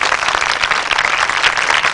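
A sermon congregation claps for Jesus in loud, dense, sustained applause that fills the room.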